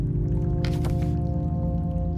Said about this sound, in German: hier kann man Moos sammeln